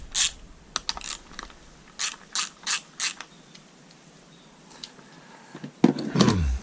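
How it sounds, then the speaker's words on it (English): A 10mm ratchet loosening coil pack bolts on a Yamaha 250 outboard gives several short, close bursts of ratcheting clicks separated by pauses, with a clunk and handling noise at the end. "a 10mm loosens up the bolts that hold the coil packs in"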